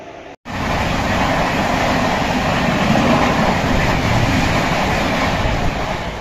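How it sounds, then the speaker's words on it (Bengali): A train rushes past at Talit station after a brief silence, a loud, steady roar of wheels and wagons close by that holds unbroken throughout. "দেখতে দেখতে ট্রেন একদম হাওয়া হয়ে যাচ্ছে"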